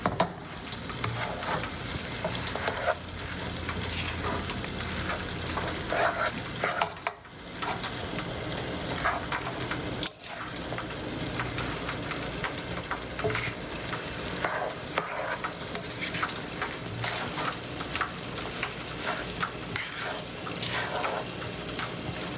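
Pancit noodles stir-fried in a pan for a lumpia and pancit cooking class, a steady loud sizzle with scraping stirs throughout, two brief pauses, and faint tap water in the background.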